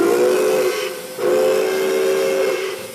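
Steam whistle of the Pere Marquette 1225 steam locomotive in Michigan, two loud, sustained chime blasts with a brief gap between them, plus airy hiss of steam, no voices.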